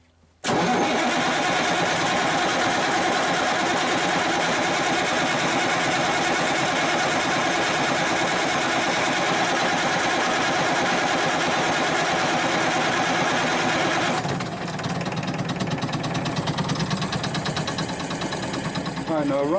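Cummins 350 Big Cam diesel engine cranks and catches, then runs steadily at a loud, close idle for the rest of the stretch, with a slight drop in level and a rougher tone near the end.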